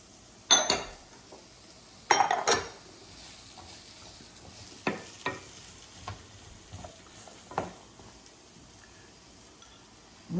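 A knife slices a pepper into thin julienne strips on a cutting board, giving sparse, sharp chops and clicks, some doubled, spaced irregularly across ten quiet seconds.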